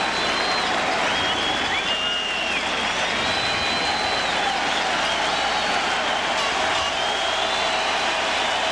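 A baseball crowd of over 40,000 at Yankee Stadium roars and applauds during a 1998 Angels game, a dense, continuous wall of cheering with scattered whistles rising above it, loud and sustained throughout.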